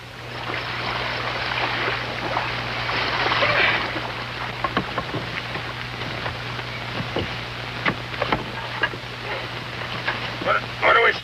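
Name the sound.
paddling a canoe on water, from a western film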